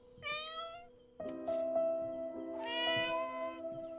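Stylized cat meows in the Copycat video game, a short harmonic mew followed by a longer sustained meow and another rising meow, clear and close, heard alone over a steady soft background tone.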